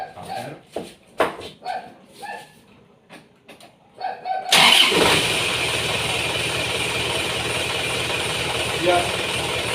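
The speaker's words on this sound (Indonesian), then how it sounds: "dengan cara kita hidupkan mobilnya" A car engine starts with a sudden rush after some scattered background sounds and a barking dog, then settles into a steady, even idle that continues close by to the end.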